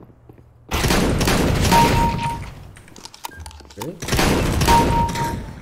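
Shotgun blasts in a first-person shooter game, Operation Riptide, two loud heavy bursts of fire separated by a brief pause, with a voice talking in between.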